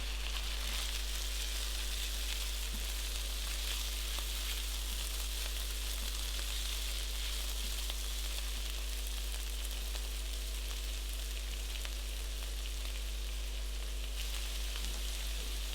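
Chopped tomato and pepper fry gently in a pan for a burger topping, giving a soft, even, continuous sizzle at low level with a steady low hum underneath and no talking.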